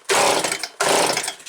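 A Stihl SH86C leaf blower with a flooded engine and a suspect carburetor gives two short, loud, rough bursts of sputtering engine noise, each dying away quickly.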